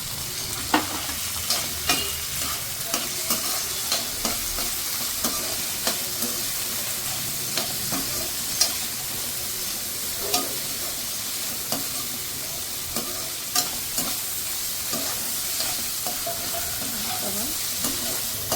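Green capsicum and chilli stir-fry in a hot pan for a long stretch, a constant close sizzle broken by regular sharp clacks of the spatula tossing the vegetables, with no talk.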